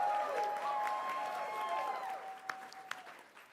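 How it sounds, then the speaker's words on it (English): Audience applause at a college quiz championship event, a steady wash of clapping from a crowd that fades gradually, with a faint held tone and a couple of sharp knocks near the end. "Audience, give them another round of applause for making it to this stage."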